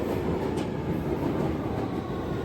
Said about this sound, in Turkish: Tren geldi.